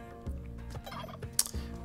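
Turkeys gobble in Spelunky 2, the video game: several loud, close, repeated gobbles with fluttering bursts arriving every half second or so, over a steady game soundtrack.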